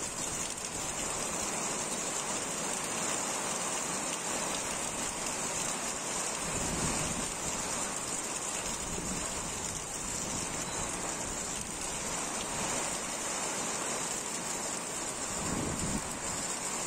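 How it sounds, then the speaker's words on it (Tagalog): Heavy rain pours steadily with a constant hiss, and gusts of strong wind rumble underneath throughout. "At ito na nga yung ulan, napakalakas ng hangin."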